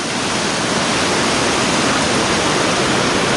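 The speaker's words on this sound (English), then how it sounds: "we see beautiful waterfalls on the way" A waterfall beside the trail to Annapurna Base Camp roars in a steady, dense wash of broadband noise, loud and close, with no pauses and no voices over it.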